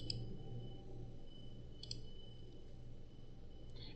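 Mouse clicks on a blue gear icon in RStudio: a few faint, sharp ticks spaced roughly two seconds apart over a steady low background hum.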